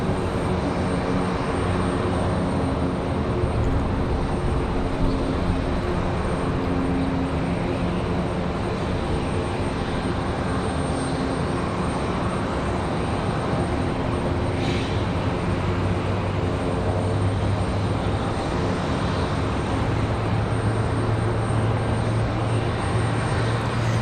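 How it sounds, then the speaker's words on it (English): At Raleigh-Durham airport, a Boeing Dreamliner departs for Paris, its jet engines making a loud, sustained roar that stays steady the whole time, with no talking. "enjoy the Dreamliner departure back to Paris"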